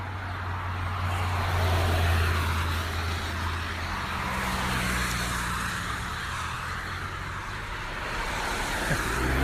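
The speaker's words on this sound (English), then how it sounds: "But you get awfully close to the traffic" Road traffic rushes past close by on a narrow roadside stretch, with loud swelling whooshes of cars and heavier vehicles overlapping into a continuous roar.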